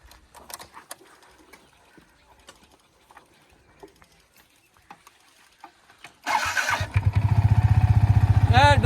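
Scattered light clattering and knocks, then a motorcycle engine kicks to life and idles loudly with a steady throbbing putter close by.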